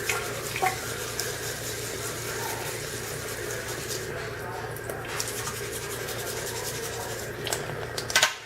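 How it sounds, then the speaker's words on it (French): A metal-detecting find, a coin, rubbed by hand under a running kitchen tap, a steady wash of flowing water with continuous scrubbing friction, close and moderately loud throughout. "Puis je frotte en dessous du robinet, comme ça."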